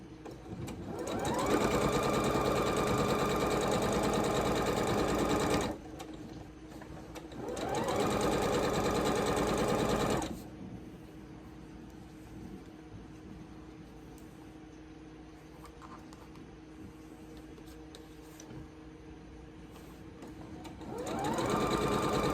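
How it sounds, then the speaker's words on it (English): A sewing machine stitches a Scrappy Spools quilt block in three loud, close, steady runs of rapid mechanical whirring, separated by quieter pauses with low background hum and no speech. "This is definitely the last thing I'm sewing tonight."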